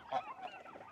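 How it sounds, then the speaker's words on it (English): Turkeys gobbling close by on a farm in Uganda, a burst of rapid, warbling calls overlapping one another throughout. "these turkeys"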